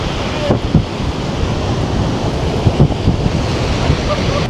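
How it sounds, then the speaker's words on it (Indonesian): Stormy wind buffets the microphone while surf rolls steadily onto Cibeureum beach at Anyer, a loud continuous roar with occasional gusty thumps and no voices. "Itu badai itu."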